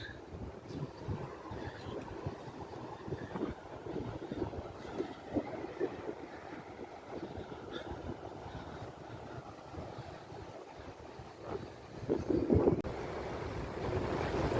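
Waves wash onto the beach at Alibaug, Maharashtra, in a rough, continuous rush with wind buffeting the microphone, swelling louder toward the end.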